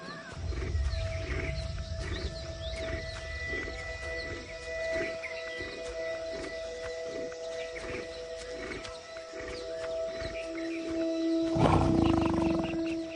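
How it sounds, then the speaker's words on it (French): Bengal tiger roaring in the wild, deep rumbling growls that swell and repeat over a continuous tonal background, building to a louder roar near the end. "Un tigre mâle peut avoir des petits de plusieurs femelles"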